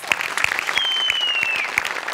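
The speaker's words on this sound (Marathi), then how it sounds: "प्रसाद खांडेकर साठी जोरदार टाळ्या।" An audience at a Marathi comedy show applauds a screenwriter with brisk, fairly close clapping, individual sharp claps standing out over a continuous bed of hands, with a faint whistle sliding through the middle.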